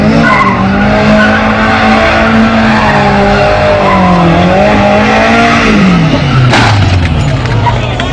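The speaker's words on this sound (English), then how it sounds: "This guy drifts about as if he's got his eyes closed and goes straight into this Corvette." A drifting car screeching its tyres loudly and continuously over a revving engine, the squeal bending in pitch before a sudden impact into a parked Corvette near the end, with voices audible over the noise.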